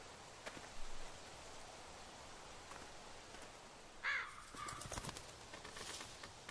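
Crow-like caws and bird calls ring out in a post-apocalyptic zombie survival game, a few brief cries standing out over a steady wash of outdoor ambience, with a sharper burst of calls around the middle.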